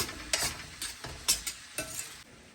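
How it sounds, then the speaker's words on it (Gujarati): Kitchen King masala being stirred and cooked in a pan, with a steady sizzle under several scraping spoon strokes at roughly even intervals, close by and without talk. "હવે બધું બરાબર મિક્સ કરી અને બધા મસાલાને ચડવા દઈએ."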